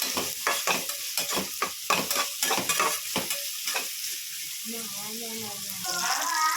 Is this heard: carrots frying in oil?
yes